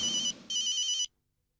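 A telephone rings indoors in a comedy scene, two loud electronic trilling bursts with a short gap between them, then silence; no one speaks.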